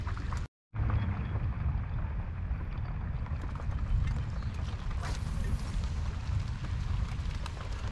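A canoe being paddled and turned around on a low lake with people around, giving a steady wash of water and paddle noise close by with faint background activity.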